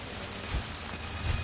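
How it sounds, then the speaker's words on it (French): Steady video-game rain hisses throughout, at night outside a cave in Kena: Bridge of Spirits, an even wash of falling drops with a couple of low rumbles underneath. "Oh, il pleut."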